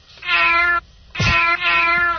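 Cat meowing in three close, loud calls: a long drawn-out meow, a short pause, then two more meows running together, the second with a sharp start.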